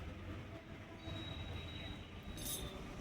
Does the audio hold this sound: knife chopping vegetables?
no